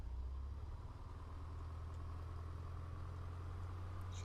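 A PA-38 Tomahawk piston engine idles at low RPM in Microsoft Flight Simulator, a steady low droning hum that holds constant throughout.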